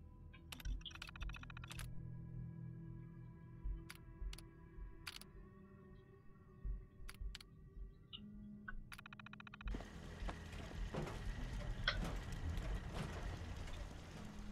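Keys clatter in quick, uneven bursts as a computer terminal is typed on in Fallout 4, crisp close clicks over a low ambient hum that turns noisier and busier in the second half.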